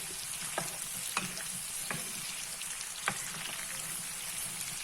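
Mango pieces cooking in oil for a sautéed oil mango pickle, giving a steady bright sizzle with a few soft stirring scrapes spaced through it, close up with no talking.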